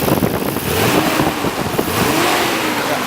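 A stock 1992 Nissan Skyline R32 GT-R with its RB26 twin-turbo engine, hot after a long drive, revs loudly and close by in a sustained, rising and falling blip with no talking.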